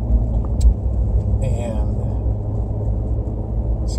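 A 2018 Ford F-150 cruises on Route 76 while towing about 10,460 pounds of trailer ballast, giving a steady low cabin rumble and road drone, with a brief voice and a short high squeak over it.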